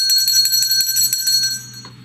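A bell rings with bright, sustained metallic overtones, struck in a quick series of strikes that blend into a shimmering ring before fading toward the end.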